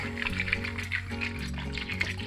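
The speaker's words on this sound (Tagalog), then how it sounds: "Lagyan natin ng tubig." Water pours into a cooking pot in a home kitchen, a close, continuous splashing fill with gurgling and a bright watery hiss that keeps going throughout without talk.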